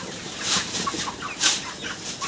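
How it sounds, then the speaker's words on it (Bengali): Broiler chickens for sale at a poultry stall, large birds of around 2 to 2.5 kg, cluck and squawk restlessly as they are stirred, a dense, loud, close flock sound over a steady background. "একটু নাড়াচাড়া দিন, দেখুক মুরগির।"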